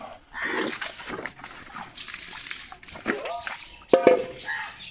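Clothes are washed by hand in water, with irregular sloshing and splashing nearby and occasional louder slaps. A voice talks over the washing.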